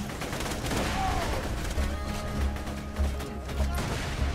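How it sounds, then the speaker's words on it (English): Grenade combat in the video game Borderlands 2: a dense, steady wash of gunfire and battle noise, punctuated by several low, thumping blasts in close succession toward the end. "Let's just throw a grenade then."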